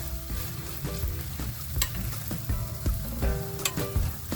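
Meatless cutlet mixture frying in a pan, with a steady close sizzle and occasional louder crackles and scraping stirs.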